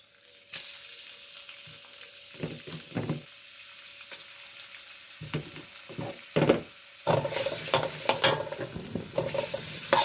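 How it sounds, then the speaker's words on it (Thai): Pork hitting a pan of curry paste for a Thai stir-fry with long beans, a steady sizzle broken by bursts of scraping and stirring, growing louder and busier toward the end, with no talk. "พริกแกงก็หอมได้ที่แล้วนะคะนำหมูลงไปใส่เลยค่ะ"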